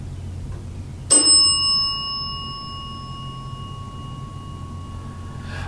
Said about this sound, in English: That bell has gone off